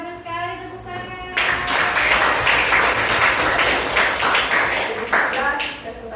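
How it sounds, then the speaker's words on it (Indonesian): A classroom audience applauds after a group presentation, dense clapping rising abruptly after a brief stretch of voice and continuing steadily at moderate loudness with some talk mixed in. "bagus sekali tepuk tangan"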